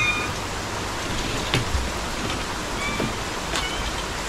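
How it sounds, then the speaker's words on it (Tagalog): Rain falls in a steady, even hiss with a few scattered soft drips and knocks, moderately loud and continuous, with no talking. "Hindi naman totoong malakas ang ulan eh."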